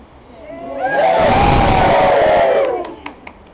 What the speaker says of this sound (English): Give the newlyweds a wave and a big cheer.